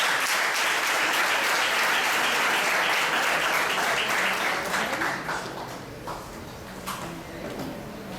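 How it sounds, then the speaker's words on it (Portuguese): Church congregation breaking into loud sustained applause during a worship service, dense clapping that thins out after the midpoint into scattered claps with faint voices. "Pastor Teodoro Sérgio, vamos receber uma salva de palmas ao Senhor."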